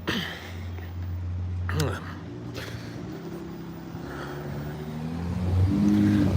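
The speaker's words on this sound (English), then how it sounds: "Got some cars passing me." Cars pass by on a road beside a person walking outdoors, their engine and tyre noise swelling and fading in a couple of broad whooshes under steady talking.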